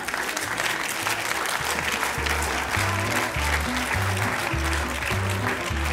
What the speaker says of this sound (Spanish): Como aplaudió una señora sola.